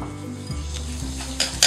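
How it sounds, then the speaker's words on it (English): Egg yolks and lemon juice being stirred together in a bowl for a lemon soufflé, with soft continuous scraping and a few sharper scrapes near the end over a steady low hum. "We just give them a little bit of a stir"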